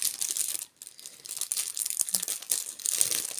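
A plastic card sleeve is crinkled and pressed back into place, giving close, soft crackling and rustling that runs almost continuously with one brief pause, and no talk.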